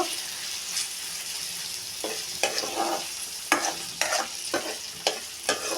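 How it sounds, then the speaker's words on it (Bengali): Dried fish (shutki) stirred and fried in a pan, a steady close sizzle broken by repeated scraping strokes of a spatula at irregular intervals, with no talking. "দিয়ে দিলাম শুটকি। এবার আরও কতক্ষণ নেড়ে ছেড়ে কষিয়ে নিব।"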